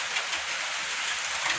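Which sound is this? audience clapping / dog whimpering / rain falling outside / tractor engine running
rain falling outside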